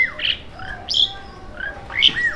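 Small birds chirp in a small-town area, giving three or four clear, sharp calls close by, spaced about half a second to a second apart, over quiet background noise.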